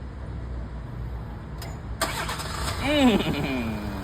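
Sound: Ford car engine starting via Digital Key

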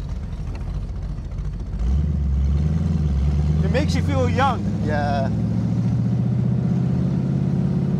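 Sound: 1967 Shelby AC Cobra engine

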